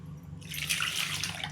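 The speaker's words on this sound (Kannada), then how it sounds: "ಅದಕ್ಕೆ ಸ್ವಲ್ಪ ನೀರು ಹಾಕ್ಕೊಳ್ಳೋಣ" Water is poured into a kitchen vessel holding mango peels and seeds while mango shikarani is being made, giving a steady close splashing hiss that starts a moment in and runs continuously.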